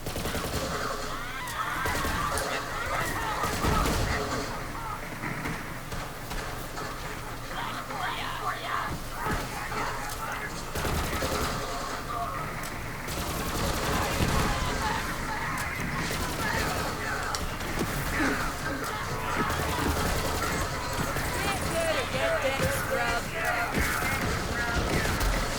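Rapid bursts of Kyb's Worth SMG fire in Borderlands 3, dense and continuous over game music and effects, with someone talking throughout.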